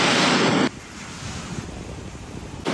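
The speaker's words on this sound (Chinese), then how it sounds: "听这个海浪声啊" Sea waves on the beach at Sanya, a loud roaring wash of surf mixed with wind buffeting the microphone, with a quieter stretch of low rumble in the middle before the roar returns.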